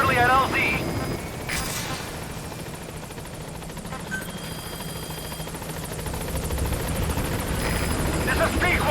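A support helicopter in the video game Metal Gear Solid V: The Phantom Pain approaches a landing zone, its rotor drone loud and steady throughout while a radio voice speaks over it.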